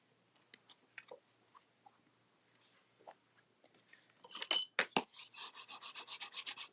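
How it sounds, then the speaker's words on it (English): Burnishing a paper card panel with a green leafy pattern for a pop-up card: faint scattered taps at first, then firm close rubbing strokes in a quick even rhythm, about a dozen passes. "Give that a good burnishing. Make sure it's straight."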